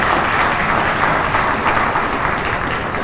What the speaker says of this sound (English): Let's have another round of applause for LMC and for all of you in supporting the cause.